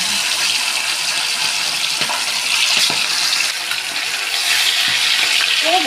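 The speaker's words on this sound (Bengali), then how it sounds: "তেল গরম হয়ে গেছে, এবার মাছগুলো দিয়ে দেবে" Pabda fish fry in hot mustard-style oil, a steady bright hiss and crackle of sizzling filling the whole stretch, with faint clinks in the background.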